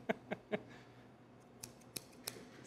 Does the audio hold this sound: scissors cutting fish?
yes